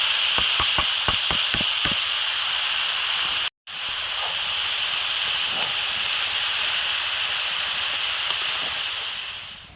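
Boiled banana blossom frying in oil with ginger: a loud, steady hissing sizzle fills the pan after a quick run of tapping clicks, cut briefly by a moment of silence, then continues unbroken with no speech.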